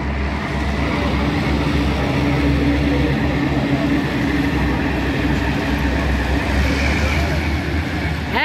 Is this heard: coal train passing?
yes